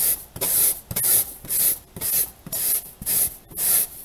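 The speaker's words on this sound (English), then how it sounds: "I'll just rub the balloon on the cloth" A balloon is rubbed against a cloth in rhythmic strokes, about seven close, loud scratchy swishes in a steady back-and-forth with short pauses between.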